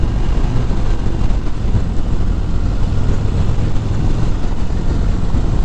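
A 2019 Harley-Davidson CVO Road Glide motorcycle gathers speed in a loud, steady engine roar mixed with rushing wind noise, with no talk.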